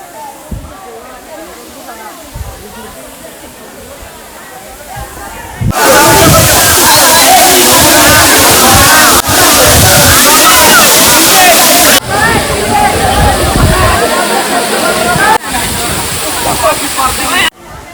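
Swachchhadhara waterfall in Sitakunda Eco Park, a loud steady rush of falling water, close and continuous, with a softer stretch at the start before the roar swells and holds.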